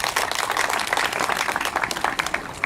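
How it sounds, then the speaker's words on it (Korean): Audience at a Korean commemorative ceremony applauds a student who read a resolution, a dense, steady wash of clapping from a crowd indoors, sustained throughout without pause. "결의문 낭독을 해주신 부천대학 학생께 큰 박수 다시 한번 부탁드리겠습니다."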